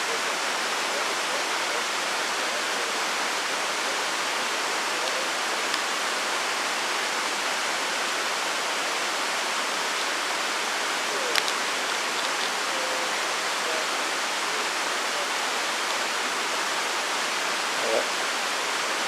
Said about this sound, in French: Tranquille, à côté du ruisseau.